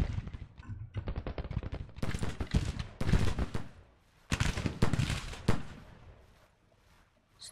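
Musket fire in the Civil War strategy game Grand Tactician, set in a battle in the woods: dense, crackling volleys of massed shots come in repeated bursts with short gaps between them, then fade out.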